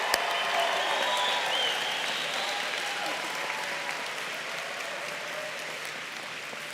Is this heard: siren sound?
no